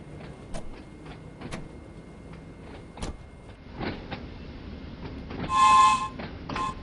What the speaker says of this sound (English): If that sounds a bit like a whistle, it's because it is.